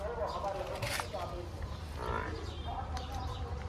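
A Murrah buffalo calf lows with short, moderately loud moos at a crowded buffalo market in Narsingi, set against a dense bed of crowd noise and background rumble, with people talking nearby.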